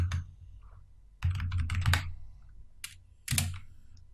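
Someone types on a computer keyboard to enter a search in Windows. Close, crisp clusters of key clicks come in three short bursts separated by brief pauses.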